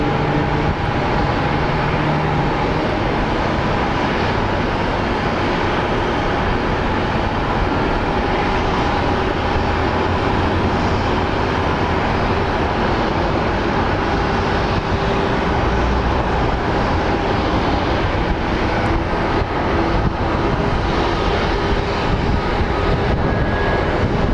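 A jet airliner landing at Phoenix Sky Harbor International Airport, its broad engine roar and rushing air steady and loud throughout, with no talk over it.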